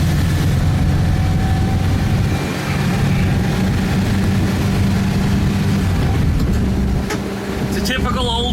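An old 23-window Volkswagen bus pulls out and drives on a morning road, its low engine drone and rumble steady and close, with wind buffeting the cabin and a brief higher rattle near the end.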